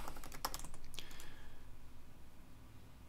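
A command typed on a computer keyboard while setting up a Ruby on Rails project, with a quick run of close key clicks and a sharper keystroke near the start, then fading into quiet room noise.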